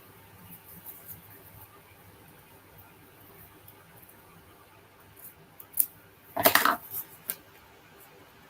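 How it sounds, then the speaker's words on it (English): Scissors snip off a paper craft piece for an Easter treat box, a quiet setting broken by a few sharp close cuts and rustles clustered near the end. "So I can now snip this off."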